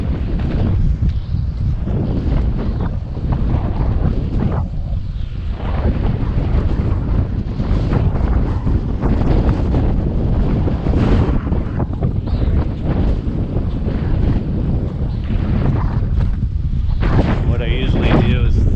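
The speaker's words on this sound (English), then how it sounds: "wind's really picking up." Strong wind buffets the microphone outdoors along a post office delivery route on a city street, a loud, continuous low roar that surges and gusts throughout with no break.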